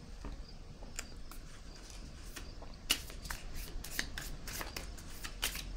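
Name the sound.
drawing a card from a deck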